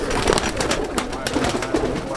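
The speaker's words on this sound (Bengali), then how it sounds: "এই লফটের মধ্যে পায়রা ছাড়া হচ্ছে দেখুন" Pigeons being released into a pigeon loft at a loft opening in Ankurhati, Howrah, with a dense flurry of wingbeats and soft cooing. Steady and fairly loud throughout, with people's voices in the background.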